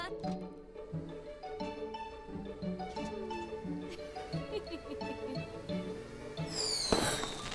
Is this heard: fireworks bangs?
yes